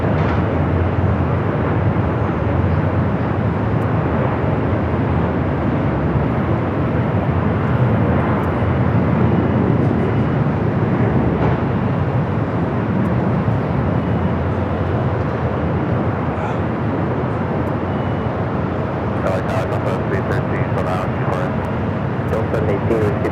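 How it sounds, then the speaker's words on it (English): An American Airlines A321 airliner at Los Angeles LAX airport, its steady jet roar filling the scene continuously at fairly close range, with occasional faint clicks near the end. "American A321 cut in front."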